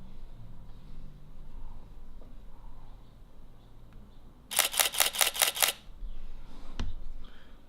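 Camera shutter fires in a rapid burst of about seven sharp clicks, close and crisp over a quiet room, with one more faint click a moment later.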